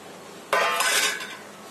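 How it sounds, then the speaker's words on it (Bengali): Fried potatoes are tipped into a large bowl, a sudden close clattering rush that lasts about a second before fading, with no talking. "ভাজা আলুটা আমি একটা বড় বাটিতে ঢেলে নিচ্ছি।"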